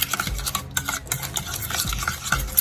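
Dalgona coffee mixture whisked by hand without a mixer, a quick rhythmic clatter of whisk against bowl, close and steady with no talking.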